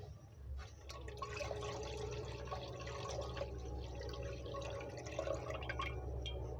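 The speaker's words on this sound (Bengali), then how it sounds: "প্রথমে দুধটা ছেঁকে নেব।" About a litre of milk is strained for a homemade sandesh sweet, giving a soft continuous pouring and trickling of liquid with faint drips, close and steady throughout.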